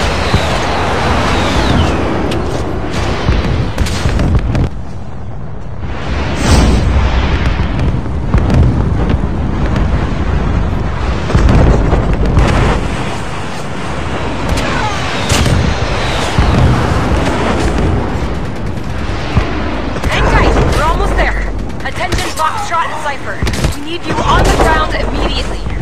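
Call of Duty Mobile campaign combat: heavy, sustained gunfire and explosions roar loudly and continuously for the whole stretch, with voices calling out over the battle.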